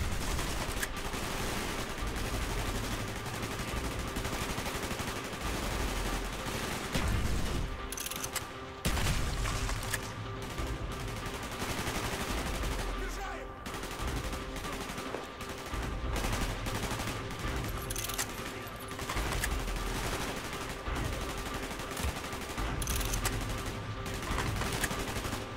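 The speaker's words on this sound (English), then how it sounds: "Gunfire's drawing attention." Sustained gunfire in Call of Duty Black Ops: dense bursts of machine-gun fire and scattered shots rattle continuously over a loud battle din.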